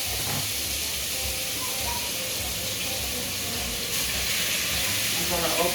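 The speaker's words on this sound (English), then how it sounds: "but I like to hear that sizzle" Pieces of pepper steak sizzle steadily in a hot pan, a continuous broad frying hiss that holds throughout with some faint background noise.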